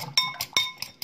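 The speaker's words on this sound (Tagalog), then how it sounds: "Batihin natin ang egg natin." A utensil beats eggs in a bowl for scrambling, giving several quick metallic clinks in an uneven rhythm, close and distinct, with no voices.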